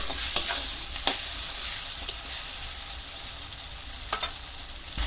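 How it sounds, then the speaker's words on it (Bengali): Potatoes stir-fried in a pan for a Bengali egg bora curry, a steady high sizzle of frying broken by a few sharp scraping clicks of the spoon as it stirs, fairly close and with no talking. "এইভাবে বারবার নাড়াচাড়া করে আলুগুলোকে ভালো করে ভেজে নিব"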